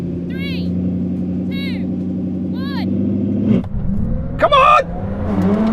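A Koenigsegg Jesko Absolut and a Bugatti Chiron SS accelerate hard from a rolling start in a drag race, a loud sustained engine roar with rising gear-shift whines, a sharp burst near the end and a voice shouting over it.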